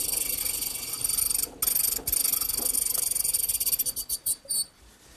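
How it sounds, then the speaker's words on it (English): A mortise is cut into a wooden post for a Mission-style sofa, giving a steady, harsh, close grinding rasp that breaks into a series of short repeated bursts near the end. "now I've just completed cutting one of several mortises that I need in the sides of the post"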